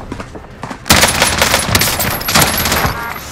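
Video game gunfire: after a quieter start, a sudden burst of rapid, loud shots breaks out and continues in dense volleys to the end.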